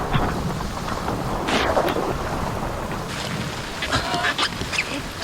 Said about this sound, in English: this is what getting caught in a torrential downpour looks like